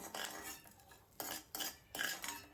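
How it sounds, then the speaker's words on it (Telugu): A utensil scrapes and clinks against a pan while golden-fried horse gram ingredients are lifted out, making several short metallic scrapes in quick succession, close and fairly quiet. "ఇవి చక్కగా ఫ్రై అయిన తర్వాత ఇలా తీసేసి పక్కన పెట్టేస్తున్నాను"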